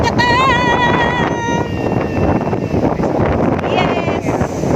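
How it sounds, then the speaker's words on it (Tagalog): Strong wind at the beach buffets the microphone in a constant roaring rumble, with a voice briefly rising over it. "ang lakas ng hangin dito."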